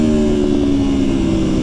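A 2019 Aprilia Tuono Factory motorcycle engine drones steadily on throttle, a loud, close, continuous low-pitched roar with a strong buzzing tone and no break.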